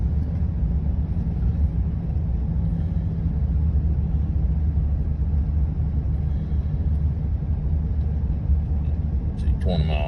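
A 2003 Chevy Silverado pickup with a throttle position sensor fault strains up a hill at full throttle, its low engine rumble steady and heavy throughout, heard from inside the cab.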